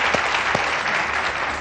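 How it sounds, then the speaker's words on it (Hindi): Studio audience applause on a Pakistani quiz game show, a short dense burst of clapping that holds steady throughout. "तालियां"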